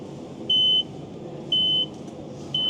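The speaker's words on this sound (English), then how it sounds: "This vehicle is reversing." Vehicle reversing alarm heard at a supermarket: three evenly spaced, high-pitched electronic beeps, each lasting about a third of a second, repeating once a second over a low background rumble.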